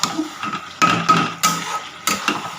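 Spatula scraping and clanking against a pan while Pangasius fish curry with tomato paste is stir-fried, a series of sharp metallic knocks and scrapes in irregular rhythm, close up, with no talk.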